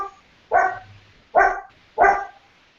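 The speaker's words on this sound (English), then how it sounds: "And the dog, sorry, she's barking at something." A dog barks indoors three times, each bark short and loud with even gaps between them, heard alone against a quiet room.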